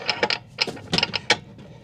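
Metallic clicks and ratcheting from a key turning in a Nemesis Ultra tow hitch lock, a quick cluster of close, crisp mechanical snaps with brief pauses between them.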